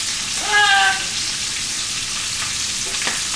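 Potatoes, cabbage and bacon fry in a pan, giving a steady close sizzle throughout, with a short whistle-like tone early and a brief clink near the end.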